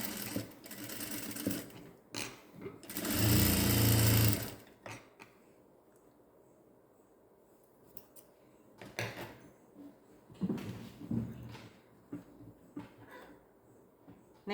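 A sewing machine stitches a gown for a fifteen-day-old newborn baby, with one loud close run of about two seconds and a few shorter, quieter bursts and handling clicks around it.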